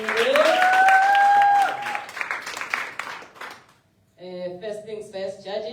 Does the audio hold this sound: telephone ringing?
no